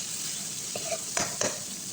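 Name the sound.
stirring butter garlic crab and shrimp with oyster and tomato sauce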